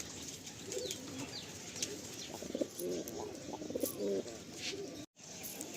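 A breeding pair of Sulemani Kagzi giribaz pigeons, a female and male, give soft, repeated throaty coos at close range over a low background hiss.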